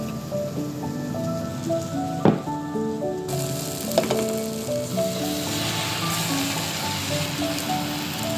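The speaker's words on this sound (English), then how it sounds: "Mix everything and let it cook for a bit." Pancit noodles cook in oil in a pan with chili powder, black pepper and salt, giving a constant close sizzle that swells louder partway through, with a couple of sharp utensil knocks.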